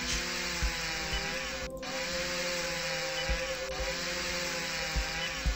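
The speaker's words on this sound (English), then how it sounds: "Use the chainsaw for massive damage." Chainsaw in the surgery video game Amateur Surgeon, a steady loud droning buzz running unbroken throughout, with brief dips and small bumps in pitch, no talk.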